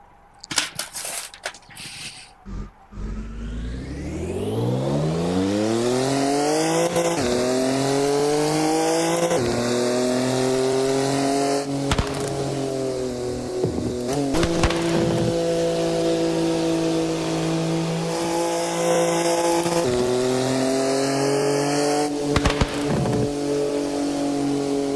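A car driven with a shifter and clutch revs loudly through rising and falling engine tones, with several high tire squeals over a steady roar after a few bumpy starting knocks.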